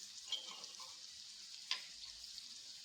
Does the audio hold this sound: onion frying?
yes